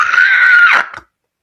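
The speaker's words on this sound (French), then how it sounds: "Elle peut te pousser l'un de ses cris." A woman lets out a single loud, sustained high-pitched scream lasting nearly a second, close and unaccompanied, then it cuts off abruptly into silence.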